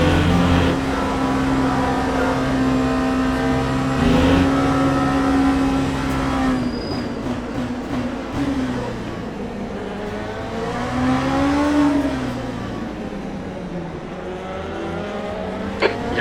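Race car engine at Silverstone in a racing video game, a steady loud drone with pitch climbing and falling through gear changes, continuous across the whole stretch with no talk.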